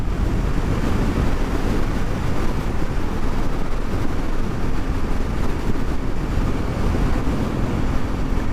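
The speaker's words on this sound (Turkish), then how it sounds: "Çok fazla rüzgar var." Strong wind buffets the microphone on a moving motorcycle in a constant, loud roar with no letup.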